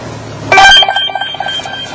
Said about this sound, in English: then we get an audible alarm here on the computer screen